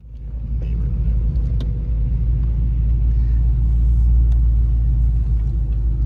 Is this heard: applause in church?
no